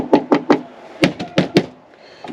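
A truck door lined with sound deadening mat is shut and knocked several times, giving solid, dull thuds in an uneven rhythm, close and clear with no talk over them.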